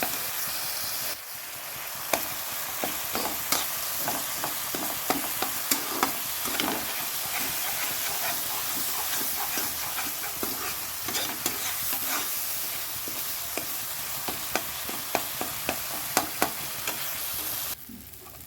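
Chopped tomato frying in oil in a pan with green chilies, a constant bright sizzle broken by frequent scraping clicks of a spatula stirring.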